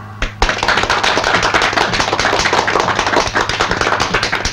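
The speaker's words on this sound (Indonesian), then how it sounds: "Dan tepuk tangan untuk bintang tamu kita, Ucok Aka Harahap." A crowd applauds steadily, dense clapping that carries on loud and unbroken throughout, with no talking over it.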